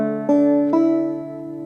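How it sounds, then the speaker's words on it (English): Banjo strings strummed one after another: two bright onsets in quick succession, then a ringing, slowly fading sustain with no voice. "So when you strum the strings of the banjo in order"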